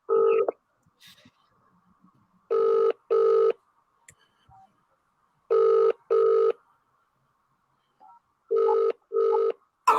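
An outgoing cold call rings on the line with a standard telephone ringback, repeated double bursts of tone separated by silence, clear and close, with no talk.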